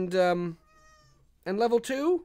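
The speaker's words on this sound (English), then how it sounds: "If you hear meowing, that is just my cat." A house cat gives a short, thin meow between stretches of a person talking nearby; the cry is brief and quieter than the voice.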